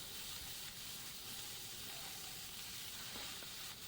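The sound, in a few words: shallow frying potatoes and jackfruit in oil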